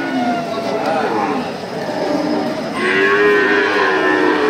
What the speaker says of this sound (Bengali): দেখতে পাচ্ছেন সিন্ধি জাতের একটা ষাঁড় গরু